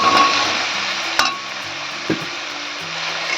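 Small potatoes drop into a pan of hot oil and spice paste, bringing a loud, close sizzle of frying, then steady crackle with a couple of sharp stirring clinks against the pan.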